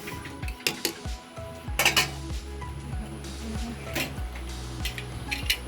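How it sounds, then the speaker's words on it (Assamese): Metal cookware clinks and knocks as a lid goes onto a pot of taro stem cooking in light steam. The taps are close and scattered, with a low background hum. "এনেকৈ লগাই থ'লে হ'ল ঢাকনিখন।"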